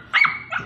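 A dog at a pet market near exotic bully dogs gives two short, sharp barks close by, the second one softer, against a quiet background.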